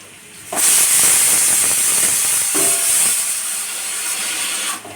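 Whole cumin seeds dropped into hot oil burst into a loud, sudden hissing sizzle that holds steady for several seconds, then cuts off abruptly, with no voices.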